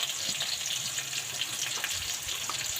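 Hot cooking oil sizzles steadily in a pan for frying bean sprouts, a dense, even crackle at moderate volume with no break and no voices.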